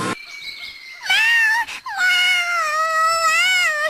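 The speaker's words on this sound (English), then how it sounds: "that cat meowing started to really get on my nerves" A cartoon cat meows loudly and insistently, giving a short cry followed by two long, drawn-out wailing meows, up close and alone.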